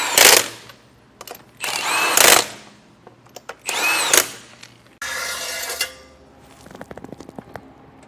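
Power tool bursts as lug nuts are torqued on a trailer wheel, several loud whirring runs of about a second each separated by pauses, then a stretch of rattling, clicking tool work.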